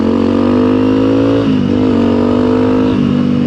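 A Honda CRF300L dual-sport motorcycle with a Stage 1 ECU tune accelerates hard and loud, its steady engine drone dipping briefly as it shifts and then pulling again, with no talk.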